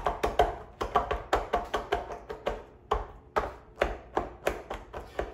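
A filled muffin tin is tapped down on a counter to settle the batter, giving a steady run of sharp, close knocks, roughly three every second, with no talk.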